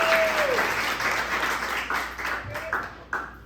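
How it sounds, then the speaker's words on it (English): An audience at a stand-up comedy open mic breaks into brief applause, a small crowd clapping with a whoop or two, tapering off quickly. "Round of applause."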